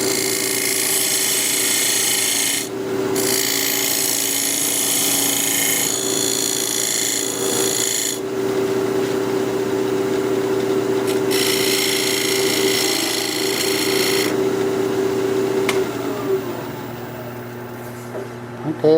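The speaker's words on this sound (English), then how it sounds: "Now I just want to take my diamond point tool and square up the sides" A diamond point tool scrapes steadily against a spinning cherry wood tenon on a lathe, a continuous hissing cut over the motor's hum, with bursts of brighter rasping that start and stop.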